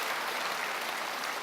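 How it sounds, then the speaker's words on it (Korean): A church congregation claps to welcome new members, a continuous even patter of applause heard at moderate distance. "여러분께 박수로 환영하시기를 바랍니다."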